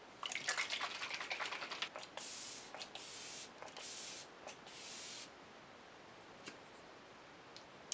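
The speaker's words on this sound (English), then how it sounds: "I'm just gonna use setting spray." Makeup setting spray is misted in several short, close hissing bursts, with pauses and faint clicks between them and a quiet room in the background.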